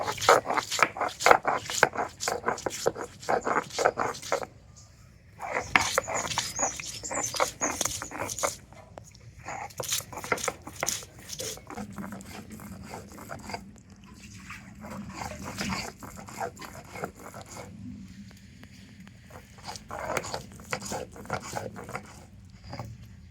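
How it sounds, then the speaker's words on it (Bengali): Ginger, poppy seeds and other spices are ground together by hand in rhythmic bursts of close scraping and grinding strokes, with short pauses between runs and no talking. "তো এই সমস্ত মশলাগুলো একসাথেই বেটে নেব।"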